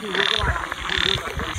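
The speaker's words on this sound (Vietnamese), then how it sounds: "Con nhái to quá các bạn ơi, có ăn được không?" A large frog in a rice field at night gives loud, close, repeated throaty croaks in two bursts, with faint voices nearby.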